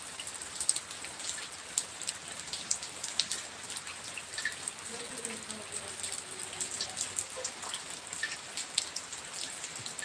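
Steady rain patters on a surface with dense, even drops and a soft hiss, continuous throughout without pause.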